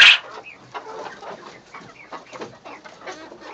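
Chickens clucking and chattering during morning farm chores, a burst of calls at the start followed by steady, moderately close clucks and murmurs from the flock.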